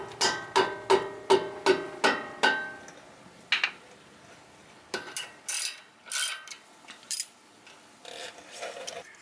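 A ratchet clicks in quick even bursts as a 12mm bolt is worked off a brake line and wheel speed sensor bracket, followed by a few scattered metallic clanks and handling taps, close and fairly clear.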